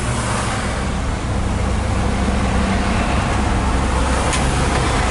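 A 1951 Dodge half-ton Pilot House pickup truck driving on the road, a steady loud engine drone with road and wind rumble throughout, no talking.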